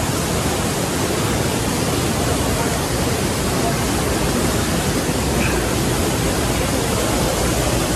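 Saadabad waterfall in Bursa roars as a constant, broadband rush of falling water, close and steady throughout, with faint voices buried underneath.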